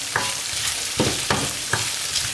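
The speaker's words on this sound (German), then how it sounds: "können wir auch mal 2 Minuten umrühren" Minced meat sizzles steadily in a frying pan for pasta while a spoon scrapes through it in a few distinct stirring strokes, close and fairly loud.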